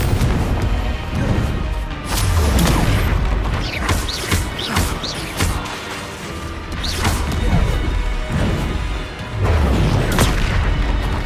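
Bombarda and Confringo explosion spells go off in a Hogwarts Legacy battle, a rapid series of loud booming blasts and crashes with sharp impacts, repeating irregularly and close.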